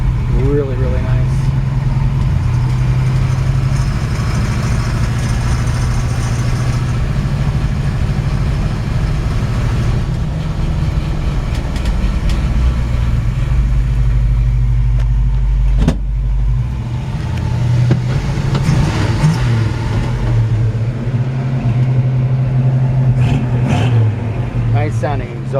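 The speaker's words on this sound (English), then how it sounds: "Nice sounding exhaust." Steady low engine drone with exhaust rumble from a 1964 Ford Galaxie 500XL while driving, continuous and fairly loud throughout, with faint cabin noises on top.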